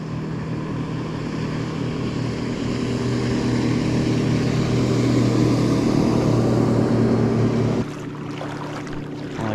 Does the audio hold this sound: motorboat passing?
yes